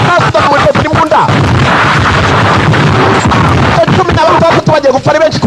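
Heavy gunfire and explosions from a translated action film erupt in a loud, dense barrage of booms and cracks, with a voice cutting in over the din at the start and end.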